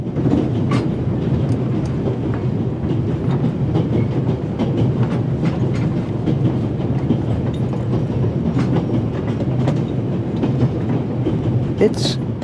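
Train rolling along rails in a video game, a steady clickety-clack rumble of wheels on track filling the whole stretch without break, close and fairly loud with a dense low roar.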